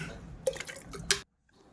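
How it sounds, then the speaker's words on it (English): Hot water poured into a glass beaker, producing a brief splashing trickle with a couple of sharper clinks, close and faint, ending abruptly in near silence. "Take the glass beaker and pour with hot water up to 1 by 4th level."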